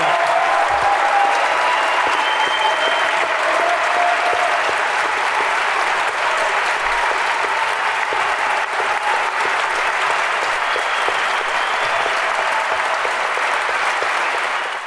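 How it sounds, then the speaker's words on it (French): An audience at a local gathering gives the nursing staff a sustained round of applause, dense clapping from many hands that stays loud and even for about fifteen seconds without speech. "Si vous pourriez vous lever et leur donner une bonne main d'applaudissements."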